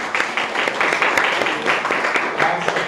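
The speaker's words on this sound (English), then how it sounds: "Let's give it a round of applause." Town hall audience applauding, a steady burst of many hands clapping at close range that continues throughout, with some voices mixed in.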